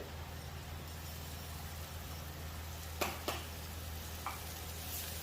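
Butter frying on a flat-top cast iron griddle before burgers go on, a quiet, steady sizzle over a low hum, with a couple of brief scraping clicks midway.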